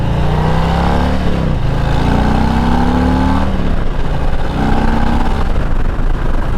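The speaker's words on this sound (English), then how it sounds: "Ah, this bike sounds good." A Harley-Davidson Street Bob motorcycle being ridden on a highway, its engine loud and close, revving up through rising pulls and dropping back between gear changes under a steady rush of wind.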